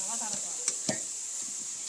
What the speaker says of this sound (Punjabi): ਮੰਮੀ ਤੜਕਾ ਮਿਰਚਾਂ ਤੜਕਾ ਲਾਉਂਦੀ ਹੈ